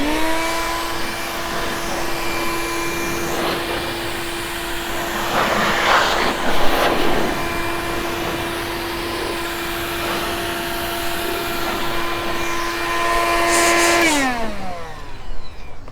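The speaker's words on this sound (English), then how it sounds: "I'm going to blow out loose dirt and debris with our turbo car dryer" A turbo car dryer blows loose dirt and debris off a Viper V10 engine, a loud steady whining blower tone with a rushing air hiss that runs continuously before winding down in pitch near the end.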